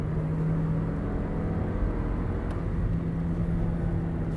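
Inside a 2018 Toyota Yaris TRD with a seven-speed manual-mode CVT, a gear change happens under a steady engine drone and road rumble, with a low hum running throughout and no talk.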